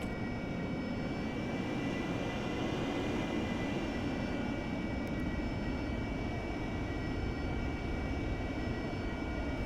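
An AV-8B Harrier jet engine in the DCS flight sim roars steadily and continuously, a dense broadband rumble with a faint high whine on top, loud and unbroken with no talk.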